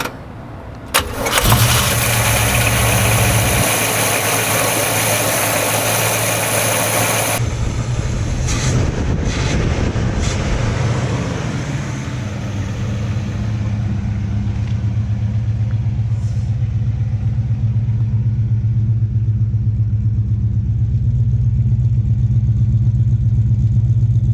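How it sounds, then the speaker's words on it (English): A leaky old 308 V8 in a VH Fury cranks and roars to life loudly, revs briefly, then settles into a steady, deep rumbling idle that continues to the end. "the VH is going to get fired up with the old 308 motor"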